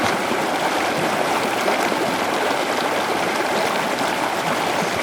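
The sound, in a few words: waterfall rushing in a forest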